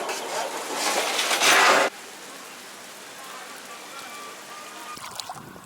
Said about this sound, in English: it's been raining quite a bit in the last hour or so